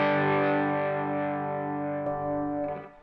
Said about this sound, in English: Let's check out the distortion side now.